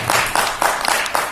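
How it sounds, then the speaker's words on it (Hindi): Audience at a Hindi kavi sammelan poetry gathering claps to welcome a poet, a short burst of steady, fairly close applause with no talk over it. "सबको तालियां बजाकर स्वागत कीजिए।"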